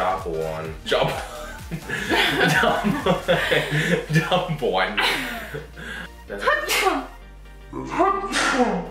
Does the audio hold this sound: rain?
no